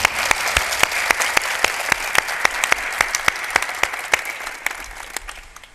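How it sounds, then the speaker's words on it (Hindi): A large audience at a Hindi spiritual discourse bursts into loud, sustained applause, with sharp individual claps standing out over the dense roar and fading slightly toward the end. "आपकी तालियां भी जोरदार बजनी चाहिए"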